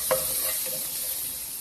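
Garlic frying in a pan for chicken adobo, a steady soft sizzle with a quick stirring scrape near the start, close and without speech.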